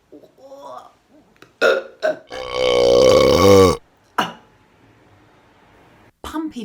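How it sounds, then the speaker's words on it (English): A long, loud cartoon belch from a bee character rumbles for about a second and a half, deep and gurgling. It sits between bursts of animated speech and squeaky voices. "Pumpy belched the loudest burp of all time."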